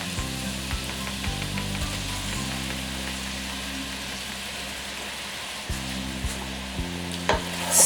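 Beef stirred into a simmering Cameroonian garden egg stew, a steady sizzle and bubbling with soft scraping stirs and occasional clinks of a spoon against the pot.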